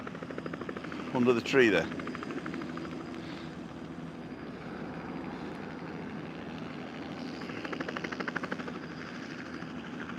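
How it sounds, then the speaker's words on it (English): A helicopter lifts off on an outdoor walk in Las Torres, Adeje, its rotor thrum a distant, steady drone under constant ambient noise, with a brief louder burst near the start and a person talking. "helicopter's just taking off"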